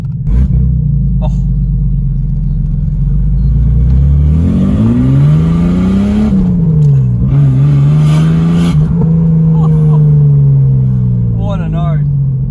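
A car engine revs hard, its rumbling exhaust note rising and falling through several climbs and drops, loud and close, with someone talking over it.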